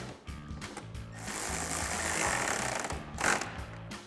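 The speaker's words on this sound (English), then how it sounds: "tighten that down with our 10mm socket" A 10mm socket on a power tool drives a headlight bolt on a 2014-2015 Chevrolet Silverado 1500, a close, buzzing mechanical whir lasting a few seconds with a brief rattle near the end, no voices.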